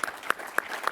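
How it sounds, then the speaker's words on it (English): Applause from a conference audience, heard as a few sharp, evenly spaced claps in a brief burst at moderate distance. "can I get a round of applause just for my guests?"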